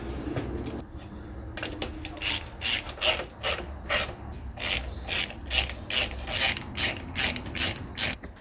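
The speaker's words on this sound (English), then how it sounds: "I can finally tighten this head up." A ratchet wrench clicks rhythmically as cylinder head bolts are tightened on a Fiat 500 1.2 engine, several quick close strokes in steady bursts after a short pause.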